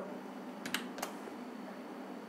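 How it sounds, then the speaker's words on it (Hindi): Typing on a computer keyboard while entering data into an Excel spreadsheet, a few quiet separate key clicks over a faint steady room hiss. "कीबोर्ड से लिख के कर रहा हूँ"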